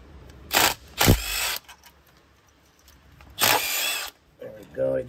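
A power tool on a 2011-2016 Ford F-150 3.5L EcoBoost loosens 8mm bolts during an oil pump upgrade, sounding as a short whirring burst, then a longer one, a pause, another sustained buzz, then a faint trailing whir.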